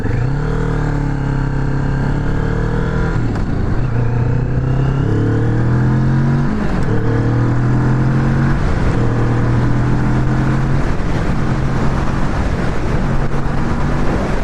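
A 2020 Kawasaki Vulcan S 650 SE motorcycle accelerating on a highway, its engine loud and close, pitch climbing through each gear then dropping at several shifts, with steady wind noise underneath.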